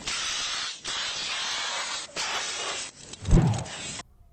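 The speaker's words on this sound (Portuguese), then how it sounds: "um dos policiais ainda tenta apagar o fogo com um extintor enquanto aguarda a chegada dos bombeiros" A police officer discharges a fire extinguisher onto a fire, giving a loud, continuous spray hiss with several brief breaks, followed by a heavier burst near the end before it stops.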